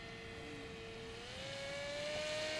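A model aircraft engine holds a steady half-throttle cruise, its thin whining tone drifting slightly upward in pitch toward the end, moderately loud and continuous with no voices.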